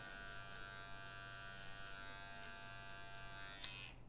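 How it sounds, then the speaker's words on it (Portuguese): An electric finishing clipper buzzes steadily and close by as it trims short hair at the nape during a haircut, a constant motor hum with one brief sharp click near the end. "Vou usar agora máquina de acabamento. Pra tirar esse cabelinho da parte de baixo."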